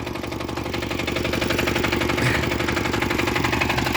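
A T-150 tractor engine runs loud and close with a steady pulsing diesel throb that swells slightly as it gets ready to drive off, heard alone.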